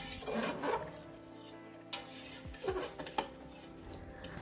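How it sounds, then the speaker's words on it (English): Oxtail being stirred with seasonings while sautéing in a pot for Jamaican-style oxtails: a handful of scraping and knocking utensil strokes against the pot, fairly quiet and spaced out, with no talk. "I'm just going to mix it all in together so that some of the flavors could just open up while I'm sauteing it"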